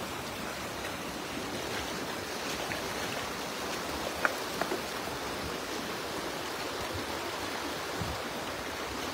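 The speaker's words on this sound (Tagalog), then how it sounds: "talagang malakas po yung agos" A strong river current flows at night with a steady, dense rushing and churning of water, close and unbroken, broken only by a few faint clicks.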